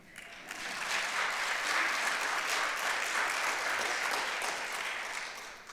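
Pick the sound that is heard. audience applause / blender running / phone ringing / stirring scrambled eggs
audience applause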